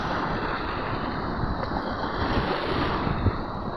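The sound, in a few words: ocean waves surging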